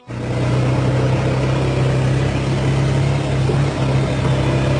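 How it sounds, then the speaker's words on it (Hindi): Cars in city traffic, a loud continuous engine drone with a steady low hum from nearby vehicles, no voices. "कितना ट्रैफिक है यार।"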